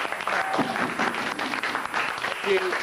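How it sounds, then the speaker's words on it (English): Studio audience at a comedy show breaks into a steady, close round of applause lasting throughout, with voices talking over it. "Definitely a round of applause there."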